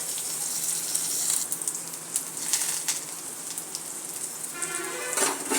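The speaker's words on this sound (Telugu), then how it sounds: "ఆవాలు జీలకర్ర తర్వాత పోపు అంతా వేసేసాను" Mustard seeds, cumin, garlic, onion, turmeric and dried red chillies crackle and sizzle steadily in hot oil for a tempering, a continuous hiss with sharp pops scattered throughout.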